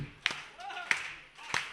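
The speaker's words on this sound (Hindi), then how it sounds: "तो एक बार तालियां बजाइए" A few sharp, separate hand claps at a political speech rally, spaced roughly evenly and mixed with a speaking voice rather than building into full applause.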